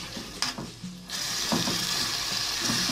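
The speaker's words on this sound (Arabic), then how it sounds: "غادي نديرو البصلة الاول تشحر مزيان المهم نخليو البصلة تشحر مزيان" Chopped onion fries in a pan with a bright, steady sizzle that starts suddenly after a few soft clinks and stays fairly close and even to the end.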